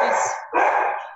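Dogs barking at a home in South Africa, two quick loud barks close by with a brief gap between them and no talk over them.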